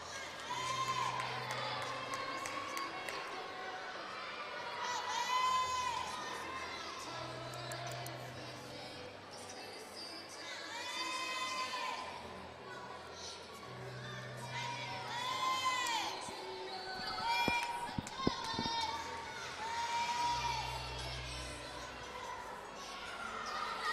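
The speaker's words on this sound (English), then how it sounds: "the team's starting to cheer her on" A college gymnastics team cheers on a teammate at an Iowa at Illinois meet, with shouts and whoops rising and falling across a crowded arena, a commentator talking over them and a ball bouncing briefly.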